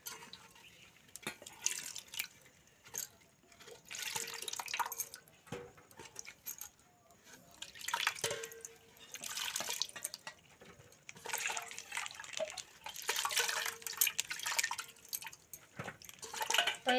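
Peeled elephant foot yam pieces washed by hand in a pot of water, with intermittent soft splashes, drips and light clinks coming in uneven bursts close by.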